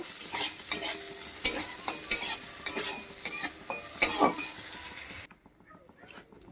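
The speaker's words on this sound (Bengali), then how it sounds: "সেই পেঁয়াজগুলোকে আমি দিয়ে দিচ্ছি দিয়ে আমি পেঁয়াজটা একটু লাল লাল করে ভেজে নেব" Chopped onions fry in hot oil in a pan for a fish curry, a steady sizzle broken by scraping stirs and light clinks of a utensil, close and loud until it cuts to near silence at the end.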